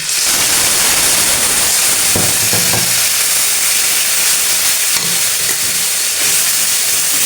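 Cumin and ground spice paste hit hot oil in a pan, producing a loud, continuous hissing sizzle, with a few brief utensil clatters near the start.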